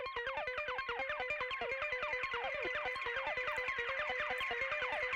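Dense modular synth sequence of rapid, evenly spaced plucked notes run through a delay, echoes stacking into a busy, continuous rhythmic pattern with shifting pitches, steady and loud throughout, no voices.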